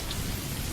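Rain falls steadily in a continuous soft hiss of drops, even and unbroken, at low volume.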